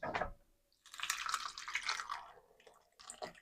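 Tree tomatoes being washed in water, close splashing and dripping in uneven bursts with short quiet gaps, no talking.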